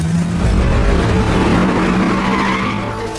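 A car skids as it takes a curve too fast, loud tire squeal and rushing engine noise running continuously for a few seconds before easing slightly at the end.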